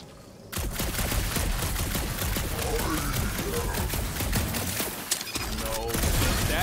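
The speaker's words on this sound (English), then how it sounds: "Shooting your way out of every problem again, Peter?" Rapid, dense gunfire in the Guardians of the Galaxy video game, crackling loud and continuous for several seconds amid other combat noise.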